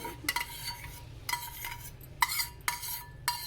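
Whisked yogurt and cream are stirred into a shawarma mixture with a spoon, giving repeated close scraping and clinking strokes over a faint, steady sizzle, with no talking.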